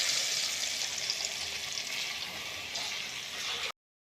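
Tomato sauce hits a hot pan of fried garlic, setting off a steady, bright sizzle that hisses on evenly without speech and then cuts off abruptly.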